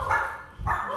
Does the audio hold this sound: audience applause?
no